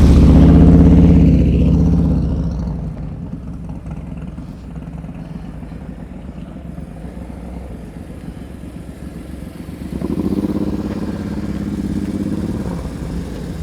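A motorcycle creeps along at slow speed during riding-skills practice, its engine note loud and close at first, easing to a steady low rumble, then swelling again as throttle is added near the end.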